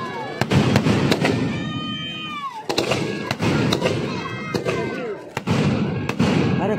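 Fireworks bursting at a Durga Puja Ravana burning in Bhubaneswar, a rapid series of loud sharp bangs and crackles over a noisy crowd, with people talking and shouting throughout.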